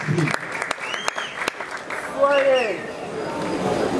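A stadium crowd applauds and cheers to welcome wrestlers onto the field, a steady mass of clapping and noise under an announcer's voice, swelling slightly louder around the middle.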